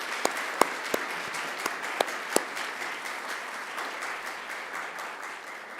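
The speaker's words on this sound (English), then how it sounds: "I ask you to give them a round of applause too" A university graduation audience applauds the academic staff, a broad sustained clapping with a few sharp, close individual claps standing out early on.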